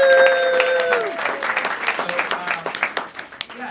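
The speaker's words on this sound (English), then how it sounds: "I think we should give them a round of applause." An audience at a vlogger fair panel breaks into a round of applause, a dense wash of clapping that starts loud and thins into scattered claps, with voices and tonal sounds mixed in at the start.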